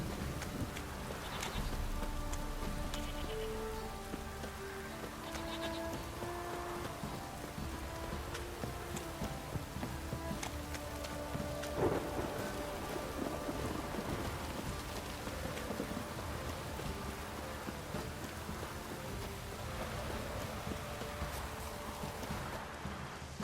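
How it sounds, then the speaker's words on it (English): Steady heavy rain pours through a storm in The Witcher 3, with a low rumble of thunder and a clip-clop of horse hooves mixed in, constant and fairly loud throughout without speech. "This downpour's a bastard, it is. If it don't stop raining, my arse will rot off."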